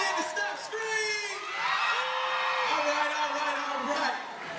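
A crowd of middle-school children cheers and screams at an anti-bullying event at Hamilton Park, a loud, sustained wall of high shrieks and whoops that swells and holds for several seconds.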